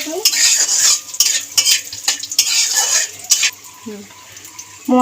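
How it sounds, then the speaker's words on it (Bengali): Whole spices, including dried red chillies, crushed cardamom, cumin seeds and bay leaves, frying in oil in a pan while a utensil stirs and scrapes them in repeated loud strokes, with a brief sizzle between strokes. "দিয়ে একটু নাড়িয়ে চালিয়ে নেব"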